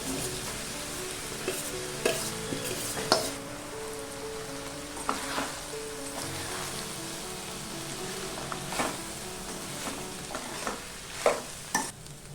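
Cooked rice being stirred and fried in a pan with paneer for fried rice, a steady close sizzle punctuated by sharp spatula scrapes and clacks every second or two, with no talk.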